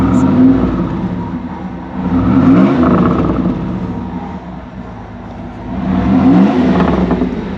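A Pontiac Trans Am revived after 17 years of storage runs in a loud, rough idle, swelling twice into throaty revs and settling back between them, close by, with a noisy pulley and the exhaust catching fire.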